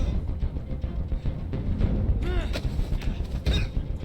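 Gunshots in Detroit: Become Human ring out as several sharp, loud cracks over a busy game soundscape, with a tight pair of shots followed by another about a second later.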